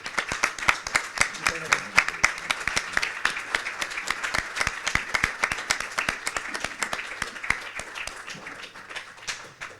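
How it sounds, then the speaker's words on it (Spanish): An audience applauds after a talk on organised violence, a steady wash of many hands clapping for about ten seconds, with a voice speaking over the clapping. "con este aplauso nos despedimos de usted, don Federico Aznar."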